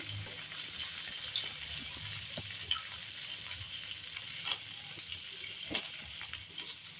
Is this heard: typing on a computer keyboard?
no